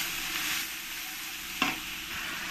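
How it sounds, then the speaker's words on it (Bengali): Ground coriander and cumin paste fries and is stirred in a pan for a thin katla fish curry, a steady close sizzle with one brief scrape of the spoon partway through. "এবার দিয়ে দেবো ধনে আর জিরেটা বেটে নিয়েছি, এই বাটাটা আমি এর মধ্যে দিয়ে দেবো, দিয়ে ভালো করে আমি একসঙ্গে কষিয়ে নেব।"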